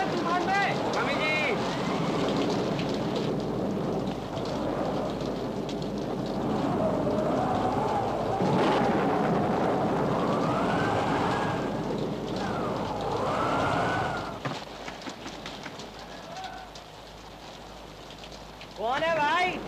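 A storm of wind and heavy rain roars as a constant loud wash through a scene from the 1958 Hindi film Savera, with a voice calling out over the downpour.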